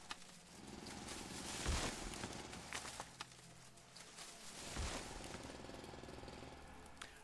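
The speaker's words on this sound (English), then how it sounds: "Alright, let's drill a little bit more." A jackhammer-like drill rattles continuously in the video game Foundry, rising in two heavier bursts with thuds, fairly faint and with no talking.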